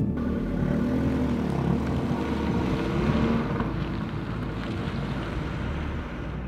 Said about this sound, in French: il fait super froid, il y a un monstre vent